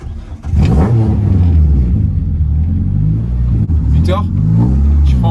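A Renault Clio 2 RS engine revs up and down with a strong, rising and falling mid-pitched drone, loud and close, while voices talk over it.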